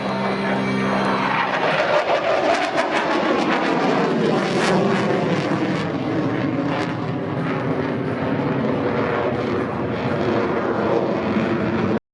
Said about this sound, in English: this new manoeuvre is not done by any other Hornet display team in the world